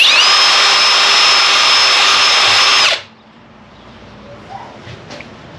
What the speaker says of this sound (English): As long as this 7/64 drill bit does not end up fitting in it